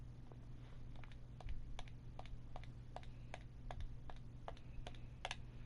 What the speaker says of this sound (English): I don't know if you guys could hear my controller there. I was kind of clicking away at it.